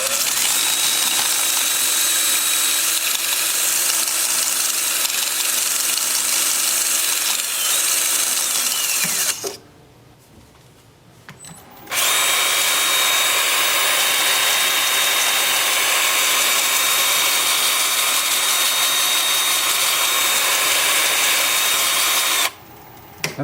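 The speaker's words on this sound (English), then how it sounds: "The lathe will be spinning at about 350." A wood lathe turning at about 350 rpm while a turned piece is sanded, giving a steady, loud continuous whir and hiss that cuts out briefly partway through and resumes, with no talking.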